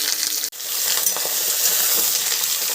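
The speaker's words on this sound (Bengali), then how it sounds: "ঝিঙেগুলো দিয়েও ভালো করে ভেজে নেব।" Ridge gourd and potatoes fry in a wok with a loud, steady sizzle and crackle, broken by a brief clatter and dip near the start, then continuing densely throughout.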